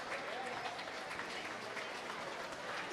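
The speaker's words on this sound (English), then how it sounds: "Nice round of applause for him." Faint, distant applause echoes through an indoor pool during a high school boys' swim meet as a swimmer finishes, a steady wash of clapping under the reverberant hall noise.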